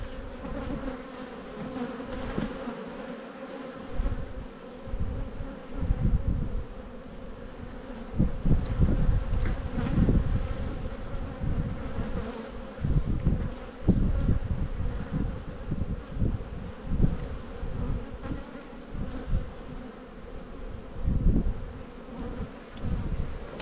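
Honey bees swarm and buzz around an open backyard hive in spring, a steady close droning hum that swells and fades as they move past, with no talking.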